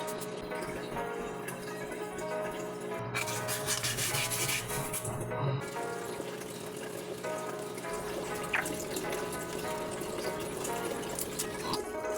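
Sandpaper rubs steadily back and forth on a new brake pad from a Skydrive 125 scooter, a continuous gritty scraping with faint tonal background sounds.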